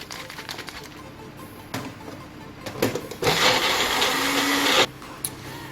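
A blender whirs through homestyle jerk seasoning, starting with scattered bumps and short bursts before settling into a loud, steady grinding run of about a second and a half, then cutting off; no voices.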